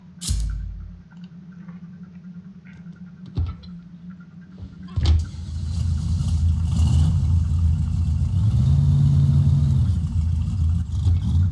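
Vehicle engine in the Fallen Earth video game: after a few clicks and thumps, a steady mid-pitched motor drone starts and runs continuously, loud and close, with no talking.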